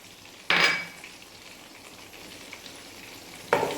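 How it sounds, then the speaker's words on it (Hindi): Chopped onion frying in a pan for mash dal, a low constant sizzle broken by two sharp clanks of a utensil against the pan near the start and end. "इसको हम फ्राई कर लेते हैं, थोड़ा सा गोल्डन करते हैं। ये अभी फ्राई हो रहा है।"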